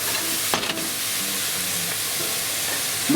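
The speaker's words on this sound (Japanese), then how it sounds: "この玉ねぎを炒める時間なんですけど" Sliced onions sizzle and hiss steadily in a hot pan for ginger grilled pork, with a few brief clinks and stirring scrapes over the constant frying.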